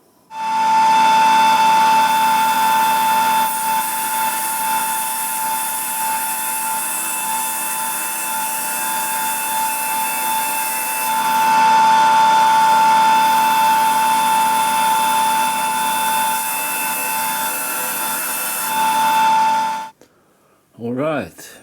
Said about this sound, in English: cut-off disc like this, which you normally use with an angle grinder